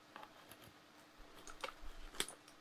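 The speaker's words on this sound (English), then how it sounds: "the K600 mechanical keyboard." A few sharp, close clicks of an E-Yooso K600 mechanical keyboard's keys, scattered and sparse over a quiet background, with one louder snap near the end.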